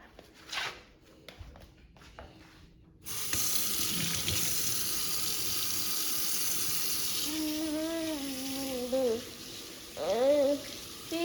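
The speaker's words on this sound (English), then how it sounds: "let me just wash my hands" Hands washed under a running kitchen water tap, a steady close gush of water that starts abruptly and continues throughout, with people talking over it near the end.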